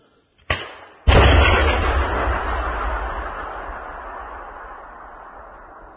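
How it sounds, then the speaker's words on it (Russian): A Stugna-P anti-tank missile fires with a sharp launch crack followed by a heavy, roaring blast that slowly decays into a long rumbling tail, loud and close. "Внимание, выстрел."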